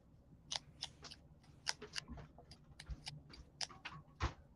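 Repeated sharp snips of scissors cutting soda can pieces to an even size, about a dozen crisp close cuts in an uneven rhythm against a quiet background.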